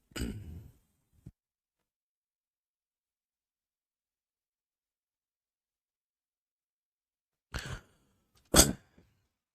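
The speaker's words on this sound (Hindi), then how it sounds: "थोड़ा सा खांसी आ गया, सॉरी उसके लिए।" A short burst of coughing or throat clearing, followed after a long silence by two more close, harsh coughs.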